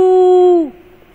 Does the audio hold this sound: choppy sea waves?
no